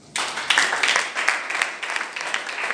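A church congregation applauds Jesus during a sermon, a sustained patter of many hands clapping at moderate distance, with a faint voice mixed in.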